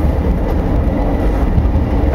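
A 1938-stock London Underground train on the Metropolitan Line rolls along with a loud, continuous low rumble and rattle heard from inside, steady throughout the short stretch with no voices.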